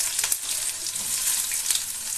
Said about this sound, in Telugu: ఇప్పుడు మనకు ఆయిల్ హీట్ ఎక్కినాక మనం కట్ చేసుకున్న ఈ ఉల్లిపాయలను వేసుకోవాలి